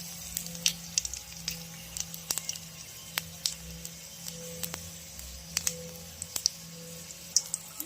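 Whole spices and bay leaf crackle and sputter in hot oil in a pan, faint, scattered pops and sharp ticks over a low background hum with no one speaking.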